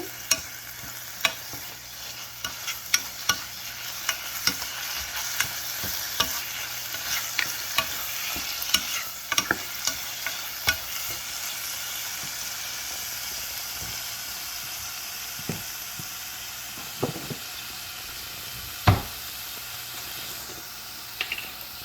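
Spinach curry being mashed and stirred in a cooking pan, a steady hiss of sizzling with frequent sharp scrapes and clacks of a utensil against the metal, close and fairly loud, no voices.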